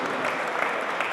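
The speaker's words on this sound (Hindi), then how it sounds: "इन्हें ज़ोरदार तालियां इनके लिए बजनी चाहिए।" An audience at a grand mushaira poetry gathering in London applauds a poet, a dense steady burst of clapping from a large crowd.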